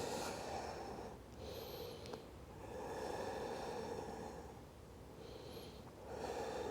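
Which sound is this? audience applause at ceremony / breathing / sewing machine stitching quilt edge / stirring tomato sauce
breathing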